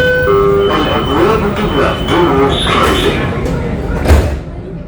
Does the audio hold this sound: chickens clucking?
no